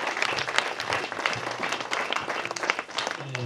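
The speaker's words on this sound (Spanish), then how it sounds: "Brindémosles fuerte aplauso, por favor." An outdoor community gathering for a new mechanical well bursts into applause for the community council president, a steady burst of clapping for a few seconds with faint voices underneath.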